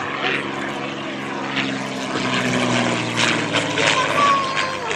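Propeller airplane drawing closer, its steady droning engine hum growing slightly louder over five seconds, with a voice speaking over it.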